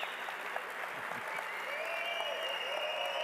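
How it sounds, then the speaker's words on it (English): An audience at the GAFFFF 2025 event applauds, a dense steady wash of clapping from a crowd that holds at an even level for the short stretch. "Guys, a round of applause."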